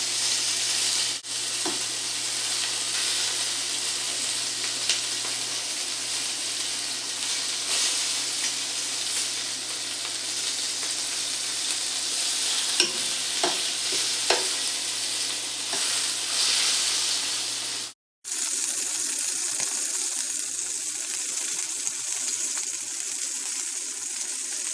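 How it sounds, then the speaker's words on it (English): Rabbit pieces sizzle and fry steadily in oil in a pan, a continuous bright crackle throughout with a few louder pops, briefly cutting out near the end before resuming. "I'm going to add a little bit more oil to make sure it brown well everywhere."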